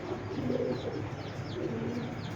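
Soft, low cooing of a racing pigeon repeats in gentle rolling phrases over a steady background hum, with faint chirps higher up.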